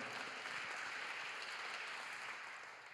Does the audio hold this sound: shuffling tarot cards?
no